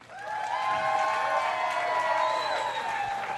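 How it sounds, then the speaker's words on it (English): Applause and cheering swell through a gym crowd for two finalists at a girls' state basketball championship, building quickly and staying at a steady moderate level, with occasional whoops and a ringing tone lingering over the clapping. "how about a nice round of applause for our two finalists?"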